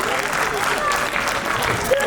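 An audience at an office Audit Diwas celebration claps warmly, a dense, even burst of applause lasting a couple of seconds.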